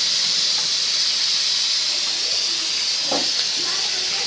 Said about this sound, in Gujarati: જો આ ખીચડીનું ધોવાણો જે કુકરમાંથી નીકળે છે.